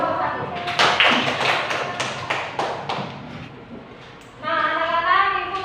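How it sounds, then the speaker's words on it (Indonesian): A classroom of children claps for a student group, with a few seconds of scattered, uneven claps and thumps up close, then the clapping fades and a voice begins speaking. "Berikan tepuk tangan untuk kelompok 1"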